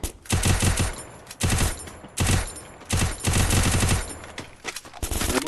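Bursts of automatic gunfire from a mobile battle royale shooter game come loud and close in several rapid volleys with short gaps between them.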